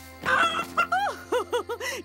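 A cartoon chicken on a camping trip gives a string of short, bouncy clucks and squawks. They come in quick separate bursts, close and fairly loud, with no speech over them.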